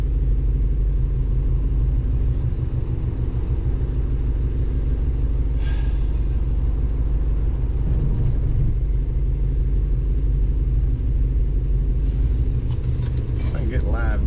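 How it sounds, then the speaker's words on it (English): A 1970 Dodge Challenger with a swapped-in Gen 3 Hemi and aftermarket fuel injection idles close by, a loud, continuous low rumble with a lumpy pulse, while someone talks over it. "Like my goofy fuel injection is making lots of racket"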